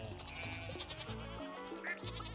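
Stardew Valley sheep bleat in a series of nasal, quavering calls, one after another at moderate volume over a steady layered background tone, with no talking.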